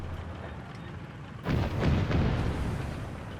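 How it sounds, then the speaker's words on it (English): In Company of Heroes 3, an artillery barrage strikes near a hill, breaking in as a sudden deep rumbling boom that swells and rolls on after a quieter lead-in, heavy and sustained rather than sharp single shots. "we got artillery calling the hill here by the artillery beacon"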